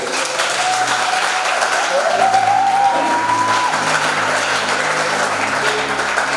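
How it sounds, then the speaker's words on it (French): A church congregation applauds loudly and steadily with dense, sustained clapping that fills the room, while a faint voice carries underneath. "Applaudis très fort si tu veux."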